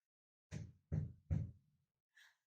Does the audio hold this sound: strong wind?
no